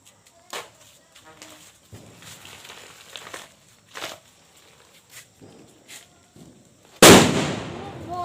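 Voices chatter outdoors during Diwali night with faint distant crackles, then one loud, sharp firecracker blast bursts close by near the end, ringing out after the bang.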